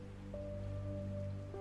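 Steady rain falls outside at night, producing a continuous soft hiss that stays level throughout.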